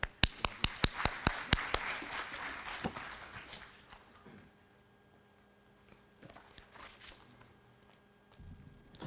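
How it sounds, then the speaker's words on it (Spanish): An audience at a judges' training seminar on intellectual property claps for a speaker, a burst of sharp, close claps that quickly thins to scattered hand claps and quiet room noise. "a quien nuevamente lo recibimos con un fuerte aplauso"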